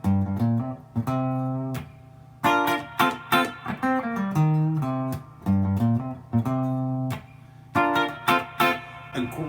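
A New Orleans funk instrumental plays a syncopated, bluesy guitar line in short, clipped phrases separated by brief gaps. The recording is fairly quiet and plays alone, without talk.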